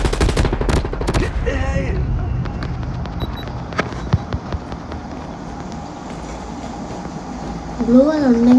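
Call of Duty gunfire opens with a rapid burst of loud, sharp shots, then gives way to someone talking over the game's background sound effects and noise.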